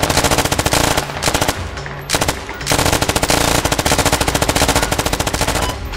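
Sustained automatic gunfire from a firefight in the video game Squad, dense rapid bursts of machine-gun fire with brief lulls, loud and close, with no voices.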